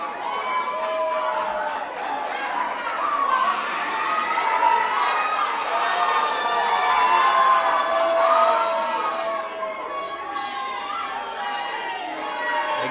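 A crowd cheering and shouting in celebration of Makerere University, at an expo event, sustained loud and dense, with voices blending into one roar rather than distinct claps.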